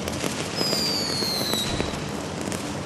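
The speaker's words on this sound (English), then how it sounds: "It's basically just a fountain that emits sparks and flame." A small fountain-type firework spraying sparks and flame, a steady dense crackling hiss throughout with a faint rising whistle early on, close and loud with no voices.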